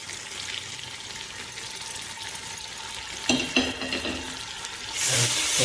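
Sliced lemon and tomato sautéing in a pan for kabsa, a soft steady sizzle with scraping stir sounds midway and a brighter, louder hiss of frying near the end.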